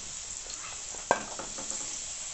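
Onion and carrot pieces fry in a pan with a soft, steady sizzle and a few light stirring scrapes, including one sharp clack near the middle.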